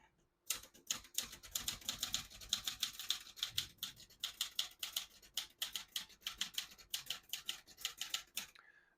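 Rapid keystrokes clack on a 1975 Olivetti Lettera 32 portable manual typewriter, a close, steady run of sharp strikes lasting several seconds with no voices.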